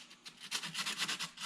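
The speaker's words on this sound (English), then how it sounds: "You're gonna sand down around all this stuff." Sanding fiberglass by hand with coarse 80-grit sandpaper around cracks, heard as close, rhythmic rasping strokes that grow louder and steadier midway, with no talking.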